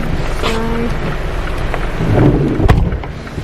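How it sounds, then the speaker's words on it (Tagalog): Heavy rain pours steadily throughout, with a rumble swelling toward the end and a sharp crack near the close, like thunder in a downpour. "Sobrang lakas ng ulan, guys."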